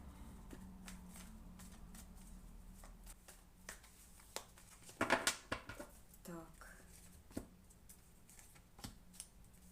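Cards riffle and slap down in quick bursts of crisp flutters, close by, amid scattered taps, with a voice speaking at moments.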